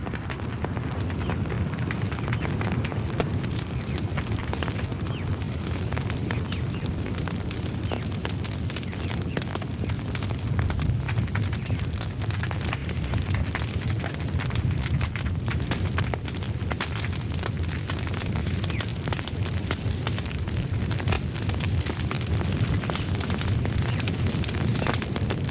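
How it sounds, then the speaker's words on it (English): A hill fire burns in Hong Kong countryside, a dense, continuous roar of crackling and popping that holds steady throughout, broad and unbroken with no clear pauses. "Thousands of trees are destroyed each year, and hill fires often blaze out of control"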